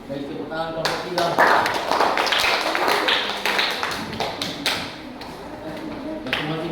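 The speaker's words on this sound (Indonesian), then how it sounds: "Baik, tepuk tangan kelompok 3." A classroom of students claps for a group after a calligraphy presentation, a burst of scattered hand claps and taps lasting several seconds with a voice speaking over it.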